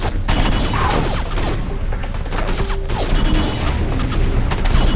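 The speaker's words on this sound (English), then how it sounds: "This gun is so awesome." Rapid, dense gunfire from a weapon in the Area 51 video game, a loud continuous fusillade of shots with mechanical clatter running the full length, with no talking.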